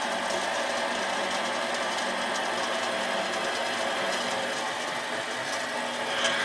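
A metal lathe cuts threads, giving off a steady mechanical whir and hum with fine rattling, close and continuous throughout.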